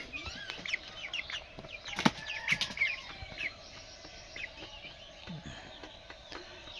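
Nineteen-day-old broiler chicks on a poultry farm make frequent high chirps and short clucks close by, with a brief flutter of wings and a low hum of the shed behind them.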